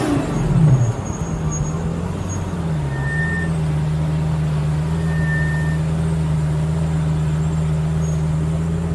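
Single-clutch Lamborghini engine heard from inside the car, a brief rev up and settle, then a steady droning hum held at constant pitch.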